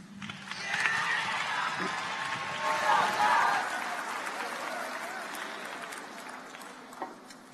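A conference audience applauds a high school team: steady, dense clapping from a large crowd fills a hall, swelling and then gradually thinning out, with a voice speaking over the clapping.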